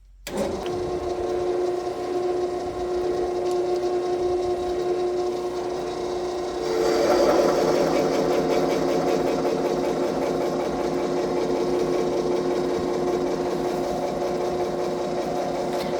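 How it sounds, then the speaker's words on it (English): A lathe tool cuts a thread relief on a 6.5x47 Lapua rifle barrel tenon. A steady whirring hum runs throughout, and a rougher, louder cutting chatter starts about midway and continues to the end. "we're going to go ahead and try to take this tool and cut that thread relief"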